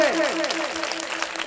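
Audience applause at a mushaira, a short burst of clapping and crowd noise, with a voice speaking over it.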